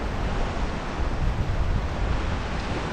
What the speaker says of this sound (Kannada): ಅಲೆಗಳು ಬಂದು ಬೀಸ್ತಾ ಇದೆ ಇಲ್ಲಿ